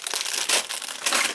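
An empty plastic bag from a Takom Chieftain Mk.10 tank model kit crinkles and crackles close up in quick, irregular rustling bursts, with no talk.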